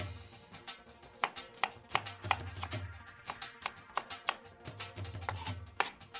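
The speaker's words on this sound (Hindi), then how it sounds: "तब तक मैं फटाफट स्प्रिंग अनियन काट लेता हूँ।" A knife chops spring onions on a board in quick, uneven bursts of crisp, close taps, with short pauses between runs and no talking.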